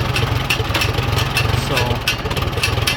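A chainsaw engine idles nearby with its idle set a little too low, giving a loud, throbbing low-pitched putter that runs unbroken through the clip.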